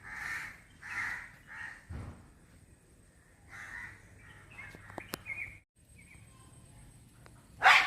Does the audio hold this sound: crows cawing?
yes